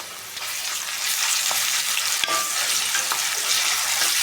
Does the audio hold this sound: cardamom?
yes